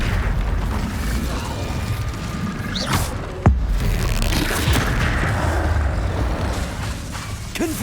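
Incendio fire spell cast in Hogwarts Legacy, a single sharp burst around midway over a steady dense game-world rumble, with smaller whooshing bursts scattered around it.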